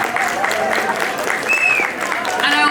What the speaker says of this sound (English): Give our guests a round of applause.